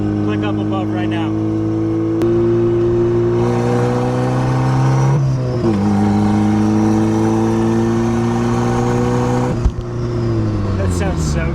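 Turbocharged Mazda Miata engine revs loudly and steadily close to the microphone, its pitch climbing and dropping between pulls and easing off near the end, with a sharp click partway through and voices talking over it.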